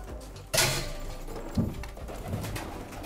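Taklambaç breed pigeons coo softly nearby in a few short, low throaty calls, with a brief rustle or bump among them.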